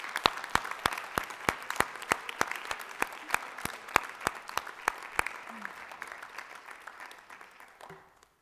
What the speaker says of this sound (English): I'd ask that the audience would please give her an amazing round of applause